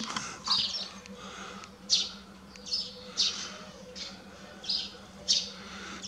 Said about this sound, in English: you can listen the songs of the different birds